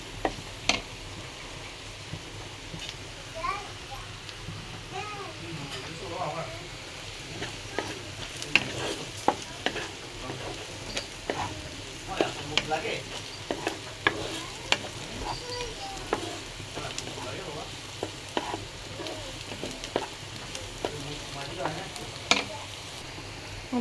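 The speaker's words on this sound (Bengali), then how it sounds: "পেঁয়াজ ভাজার মধ্যে দিয়ে দিলাম টমেটো সস।" Onion and tomato sauce stirred and fried in a pan for pasta, a steady low sizzle with frequent soft scraping and tapping of the spoon against the pan, close and continuous with no talking.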